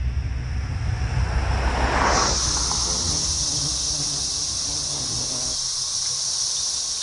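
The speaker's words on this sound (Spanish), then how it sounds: "Se trata de la cigarra periódica." Periodical cicadas, a male among millions of emerging insects, buzzing in a steady high-pitched drone that swells and then holds continuous and fairly loud for several seconds, alone without voices.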